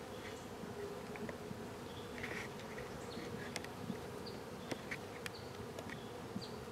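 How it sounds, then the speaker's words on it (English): Dense buzzing of many honeybees around a hive with a new Italian queen, a constant hum with individual insects zipping past close to the ear. "Bees are flying."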